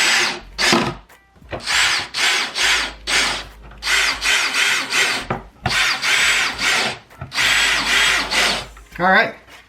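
Power drill driving screws into wood while building a car tray, in repeated loud bursts of whirring with short pauses between them, close to the microphone.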